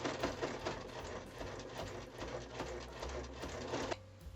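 A sewing machine stitches slippery fabric for a reusable pad in quick rhythmic bursts of needle clatter, close and clear, stopping abruptly near the end.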